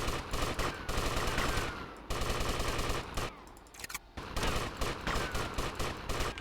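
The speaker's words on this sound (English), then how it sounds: "Popatrzcie, minigana bierzecie i strzelacie ich." Sustained minigun fire in Grand Theft Auto: Vice City, dense rapid bursts that roar almost continuously, dropping briefly around the middle before resuming at full intensity, loud and close.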